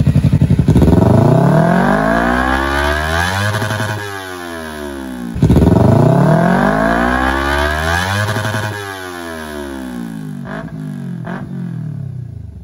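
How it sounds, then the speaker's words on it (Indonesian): Red Kawasaki Ninja FI 250 with a Yoshimura aftermarket exhaust, revved hard twice in loud rising-and-falling sweeps, then a few short sharp blips near the end, close by with no talking. "segitulah suaranya si Ninja merah FI 250 dengan knalpot Yoshimura 3 jutaan"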